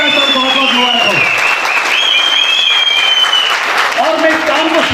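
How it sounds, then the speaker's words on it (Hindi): An audience in a hall applauds steadily and loudly through the whole stretch at a motivational honoring event. A voice carries on over the clapping. "जबरदस्त और जोरदार तालियां"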